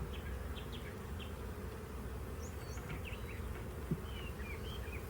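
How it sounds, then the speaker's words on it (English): Honeybees buzz steadily and close up as a hive frame is shaken back and forth during a spring hive inspection, a dense continuous drone with a few louder individual bees passing near. "I'm shaking the frame back and forth to allow the bees time to get out of the way"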